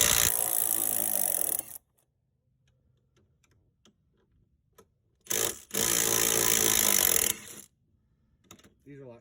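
A Milwaukee power tool whirs in two short bursts while removing bolts from a 2014 Yamaha AR240 jet boat's wear ring housing, near and loud, separated by quiet pauses with small clicks.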